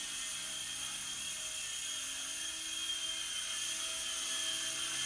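A T2M Spark MX model helicopter's small engine whines steadily at a high pitch, an even, continuous buzz with no pauses and no talking.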